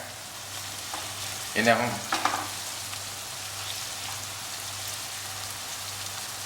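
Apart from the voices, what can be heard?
onions frying in pan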